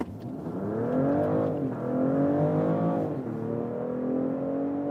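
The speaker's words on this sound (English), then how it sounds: "Let's put to the sport mode and also sports or S shifting mode, getting the boost from both drivetrains, combustion engine and electric drive." BMW X5 plug-in hybrid from 2024 accelerating hard in sport mode, with combustion engine and electric drive together: a loud, continuous engine note climbs steadily in pitch through the gears, with brief dips at each shift, and no talking.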